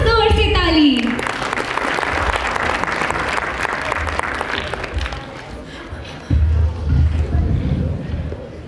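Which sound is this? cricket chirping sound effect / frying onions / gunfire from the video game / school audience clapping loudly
school audience clapping loudly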